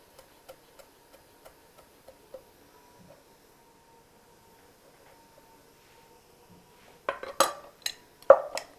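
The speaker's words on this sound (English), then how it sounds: "Just a couple of sprigs of parsley will do. And a rough chop is all you need." A knife chops a couple of parsley sprigs roughly on a board: soft, evenly spaced taps at first, then a short cluster of sharper, louder chops close by near the end.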